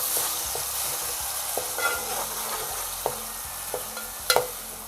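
Ground masala paste sautéing in hot oil for a Koli-style catfish curry, a steady sizzle with occasional scrapes and clinks of a spoon stirring the pan, no talking.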